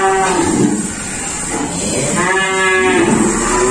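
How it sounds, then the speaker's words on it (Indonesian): A female Javanese cow moos in long, sustained lowing calls at a cattle dealer's pen, steady and fairly loud with a second call rising near the end. "sapi Jawa betina"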